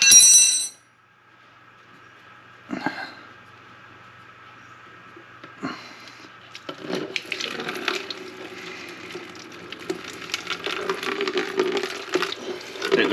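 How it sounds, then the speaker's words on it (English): Water draining out of the radiator of a 1985 Honda CR250 motorcycle, a soft trickle and splatter that grows into a steady close flow after a few scattered clicks and clanks. "So we'll get into now with draining the radiator."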